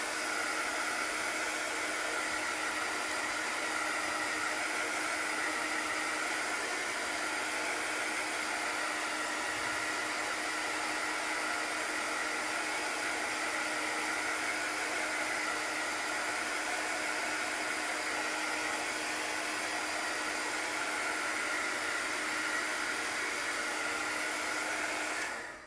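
A hair dryer blows on chalk paste on a craft project, giving off a steady, unbroken whoosh that stays close and even throughout, with no talking over it.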